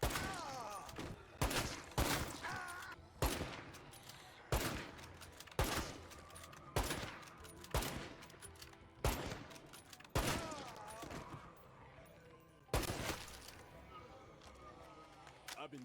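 Heavy .50 cal rifle gunfire in State of Decay 2, a series of loud, sharp shots spaced roughly a second apart, each with a short echoing tail, over quieter game background.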